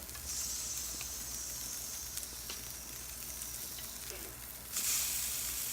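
Skin-on and skin-off salmon fillets sizzle on a grill over high heat, a steady, close, broadband hiss running throughout with a brief louder flare near the end.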